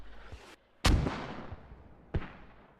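Video game mortars fire in a few heavy booming thumps, a loud one followed by a rolling decay and another blast a second later, with fainter distant pops between.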